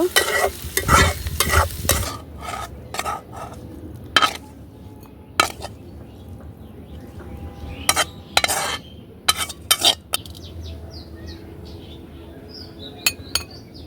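Banana flower bhaji stir-fried in a pan, with repeated scraping strokes of a spatula and clinks against the metal over a low sizzle, loudest at the start and thinning toward the end.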